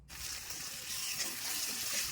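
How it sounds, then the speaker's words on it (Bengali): Ginger, cumin and chili paste frying in oil with bay leaf in a pan, a steady, close hiss of sizzling that swells slightly partway through, with no talk. "এবার আদা, জিরে এবং লঙ্কা বাটা দিয়ে ভেজে নেব।"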